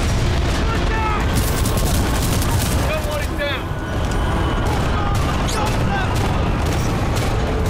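Dense gunfire and explosions in Titanfall 2 combat, loud near bursts of automatic fire and booms running continuously, with a player's voice speaking over the battle.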